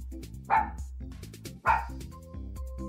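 A dog named Spark gives two short barks, spaced about a second apart, over steady background music in a children's English lesson.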